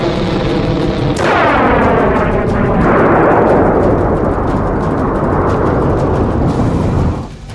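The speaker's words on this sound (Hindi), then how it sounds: "ईरान ने जोरदार बारूदी धमाका करके दोस्त और दुश्मन सभी को अपनी ताकत का सबूत दे दिया।" A loud, rumbling blast from an Iranian missile test, a sustained roar and crackle with a sharp onset that carries on for several seconds before cutting off.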